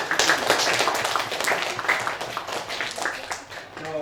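Students in a classroom clap their hands, a burst of uneven, overlapping claps from a group, moderately loud and mixed with voices and chatter that fade slightly toward the end.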